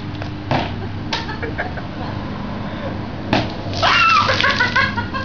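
Water balloons burst and splash during a backyard water balloon basketball game: a few separate wet splatters, one big splash near the end, and people talking and shouting over them.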